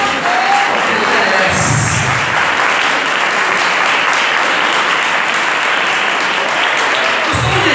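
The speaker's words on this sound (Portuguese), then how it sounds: "Dê uma forte salva de palmas para Jesus." Loud, sustained applause fills a church service, steady clapping from a congregation running the whole length without a break, with a brief murmur of voices near the start.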